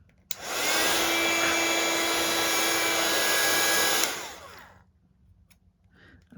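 A heat gun blows with a steady, loud whirring hiss for about four seconds while melting embossing powder on a craft card, then cuts off and spins down into quiet.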